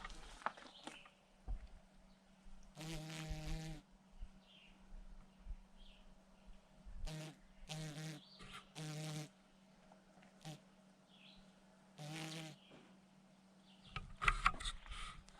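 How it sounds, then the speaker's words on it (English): A hornet stuck in place gives off intermittent loud, close buzzing bursts with quiet gaps between them, over a low steady hum, with a cluster of faint clicks near the end. "I think that's like a hornet or something. It's like stuck."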